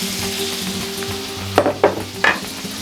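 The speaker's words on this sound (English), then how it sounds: "let's mix our rice in" Rice stirred into a sizzling paella pan: a close, constant frying hiss with a low hum, then three quick scraping stirs against the pan near the end.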